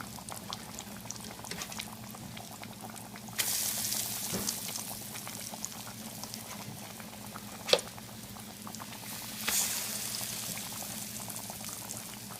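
Potatoes fry in grease in a high-edged pan, a steady bubbling sizzle that runs throughout at moderate level, with a few louder bursts of spatter and one sharp pop near the middle.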